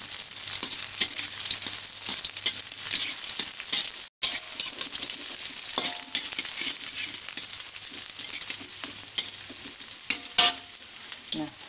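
Vegetables and shallots frying in a pan are stirred for a chayote and carrot stir-fry: a continuous soft sizzle broken by repeated scraping and clicking strokes of a spatula, with one brief dropout midway.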